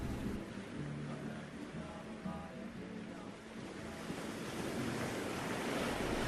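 Ocean waves wash steadily onto a beach in a continuous, loud surf roar, with wind buffeting the microphone.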